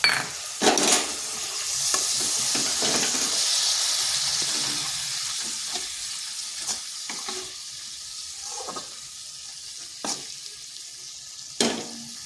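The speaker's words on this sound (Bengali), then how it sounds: "এটাকেও বেশ কিছুক্ষণ কষে নিচ্ছি" Spice masala frying and being stirred in a wok for a restaurant-style potato and cauliflower dish, a continuous hiss of oil broken by repeated scraping strokes of the spoon, close and fairly quiet.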